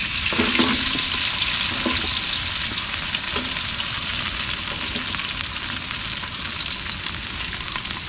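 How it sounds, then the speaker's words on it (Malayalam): Onion and curry leaves frying in hot oil for a beef bone dish: a loud, steady sizzling hiss that runs throughout, with faint stirring clinks near the start and no voices. "ഇനി നമുക്ക് കറിവേപ്പില ഇട്ട് കൊടുക്കാം അതിന് ഇനി ഈ സവാള നമ്മൾ ഇട്ട് കൊടുക്കാൻ പോകട്ടോ"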